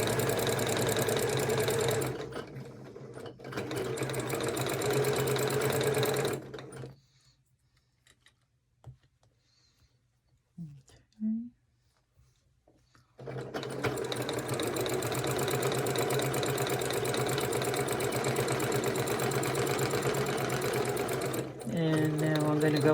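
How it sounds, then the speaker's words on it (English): A home sewing machine stitches a seam down a cuddle scarf, running loud and steady for several seconds, pausing into near silence, then starting again with a long continuous whir. "sew it right down the line"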